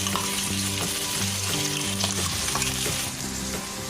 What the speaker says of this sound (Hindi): अनियन सौटे हो गया, अब इसमें हम कॉर्न्स डालेंगे।